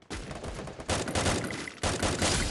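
Rapid bursts of gunfire crackle in dense, sustained volleys, loud and close, with brief pauses between sequences like automatic weapon fire in a game.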